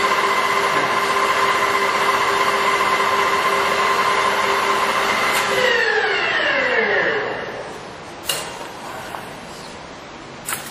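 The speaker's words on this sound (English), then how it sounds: "1205 RPM, that's top speed right there." A Mori Seiki 24 by 80 inch engine lathe with a 10 horsepower, 480 volt main drive runs at top speed of 1205 RPM, a steady loud whine that winds down after several seconds, leaving a few sharp clanks in a quiet shop.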